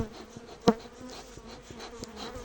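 Honey bees buzz around a beehive entrance in late January, a close, continuous droning hum with one louder bee passing briefly near the microphone.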